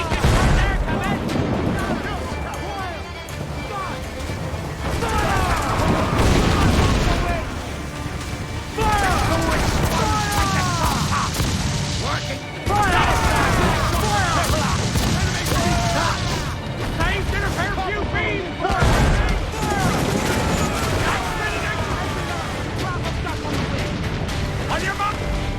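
Ship cannons firing in Assassin's Creed IV: Black Flag, repeated heavy broadside blasts and crashing impacts during a naval battle, with crew shouting orders throughout.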